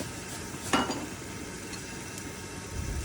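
Small fish fry in a pan with onion and garlic, a soft steady sizzle with a brief stir or utensil clink near the start, close and moderately quiet with no talking.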